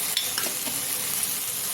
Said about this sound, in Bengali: আলু দিয়ে আরও কিছুক্ষণ কষাবো।